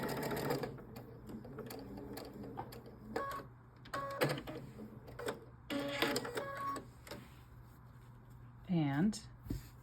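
A sewing machine stitches across quilt fabric in short, rapid mechanical bursts separated by pauses, close and moderately loud, with a person talking in between.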